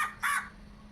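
A single crow caws once, short and fairly close, during an outdoor Pongal celebration, followed by a quiet, still background.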